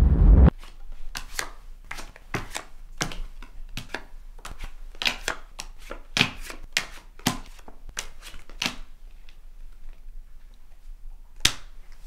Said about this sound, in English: Just shuffle the cards.